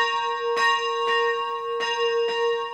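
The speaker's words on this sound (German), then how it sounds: "Die Lagerglocke lässt keine mehr eine Chance, noch ein Auge zuzudrücken." A camp bell rings out for wake-up at a youth camp ground, four clear metallic strikes spaced about half a second apart, each leaving a bright sustained ring that carries through the whole stretch.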